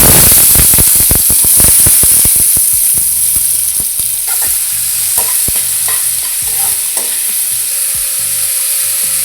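Mustard seeds, cumin and onion hitting hot oil for a Tamil prawn curry masala: a loud, steady, close sizzle with rapid crackling pops from the seeds, fading into a dense hiss as the onion fries.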